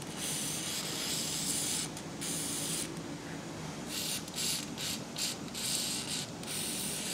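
Ballistol lubricant sprays from an aerosol can onto a model engine, a steady hissing spray with several short bursts and pauses, close and fairly quiet, with no talking.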